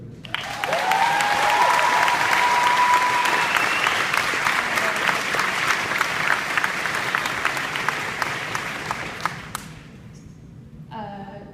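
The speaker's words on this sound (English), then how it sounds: "And a round of applause for Aideen, who's 3 years cancer-free" A comic convention crowd at a Q&A applauds a cancer survivor in a big hall, a loud sustained wave of clapping and cheering that swells early, then slowly thins and fades out near the end.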